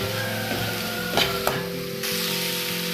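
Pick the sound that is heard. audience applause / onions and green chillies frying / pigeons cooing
onions and green chillies frying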